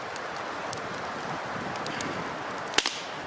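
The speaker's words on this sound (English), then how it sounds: "The wind was literally just going the other way. It's constant." Steady outdoor wind roars without a break, a constant broadband rush, with a brief sharp snap near the end cutting through it.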